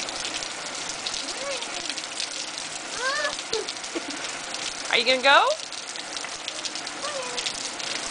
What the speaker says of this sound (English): See, that's your first tropical storm.